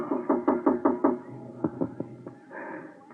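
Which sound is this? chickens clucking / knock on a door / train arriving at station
knock on a door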